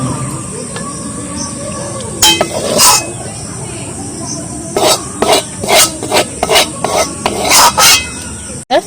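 Warm jackfruit seed paste pressed through a metal strainer with a spatula, giving repeated rasping, scraping strokes in irregular bursts, close and fairly loud, with quieter faint clinks in between.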